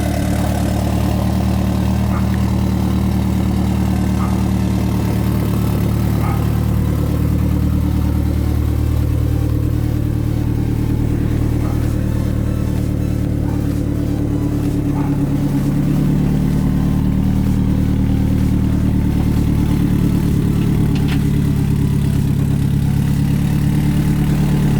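A Mitsubishi Eclipse DSM engine idles steadily with a leaking downpipe that is missing a bolt, a low rumbling drone running continuously and fairly loud, with occasional faint ticks and no talking.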